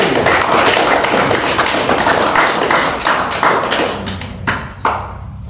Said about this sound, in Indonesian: Tepuk tangan untuk Rufi.